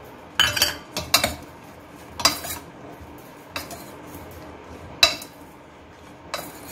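A metal spoon tosses okra with gram flour in a bowl for a crispy microwave bhindi, giving scattered clinks and scrapes in uneven bursts against a quiet background, with no talking.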